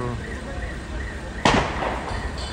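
A single sharp gas cylinder explosion bursts out mid-clip in a fire, followed by brief crackling, against a background of people talking and a steady hum.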